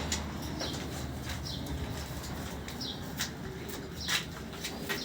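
A long-distance racing pigeon from France, with faint chirps and soft fluttering over a low steady background hum.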